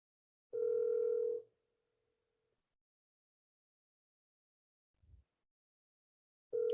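A telephone dial tone during a call attempt: a steady single-pitched tone lasting about a second, then silence, a faint low thump, and the tone returning at the very end.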